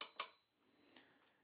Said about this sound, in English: We have one of my favorite bells. It's a really nice one. It's neat, nice, clean, and very loud.